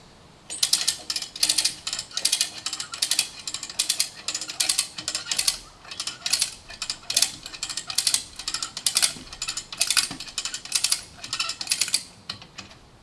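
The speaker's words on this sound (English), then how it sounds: "little winch on the go" A small hand winch ratchets steadily while pulling a large oak frame together during a barn build, with rapid clicking bursts in an even, repeating rhythm, close and fairly loud, with no one talking.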